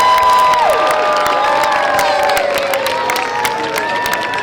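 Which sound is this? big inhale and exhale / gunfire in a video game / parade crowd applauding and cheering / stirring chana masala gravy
parade crowd applauding and cheering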